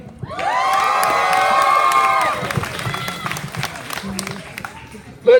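A crowd at a high school scholarship event cheers for the seniors, loud shouts and whoops rising together for about two seconds, then trailing into scattered clapping and chatter.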